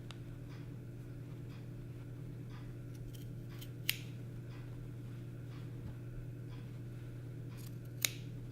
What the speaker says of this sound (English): we're going to cut an opening for the button